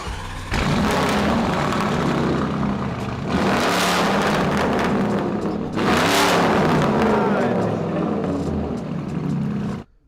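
A car fitted with a Capristo Italian exhaust revs hard in three loud, roaring bursts up close, each surge rising and holding before the engine cuts off abruptly.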